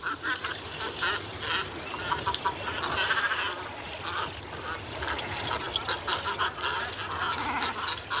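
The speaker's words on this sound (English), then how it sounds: "Most of the noise here comes from the cormorants nesting close by." Nesting cormorants call in a busy colony, a dense, continuous chorus of harsh croaks and honks from many birds at middle distance, rising and falling without pause.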